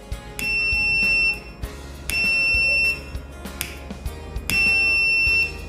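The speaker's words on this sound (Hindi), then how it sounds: "ये बजर बहुत तेजी से साउंड प्रोड्यूस करने लगेगा" A homemade fire detector alarm's buzzer sounds as a flame is held near its sensor, sharp high-pitched beeps in three separate bursts, each lasting about a second, loud and close with brief pauses between them.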